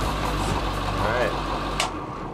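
A skoolie school bus engine idles with a low steady rumble just before shutdown. A short sharp click sounds near the end as the rumble fades, and a voice can be heard faintly.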